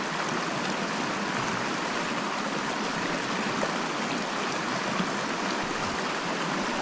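A forest stream flows past a campsite log in a steady, broadband rush, close and continuous, with no voices.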